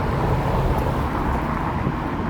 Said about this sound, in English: Look how fast these cars come through here.